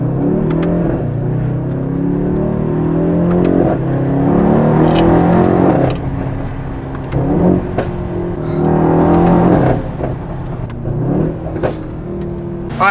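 Mercedes-AMG E63 S sedan of the W213 generation, fitted with a full aftermarket exhaust and OEM downpipes, revs hard in repeated loud bursts, its deep roar rising and falling with sharp pops and crackles between pulls and no talking.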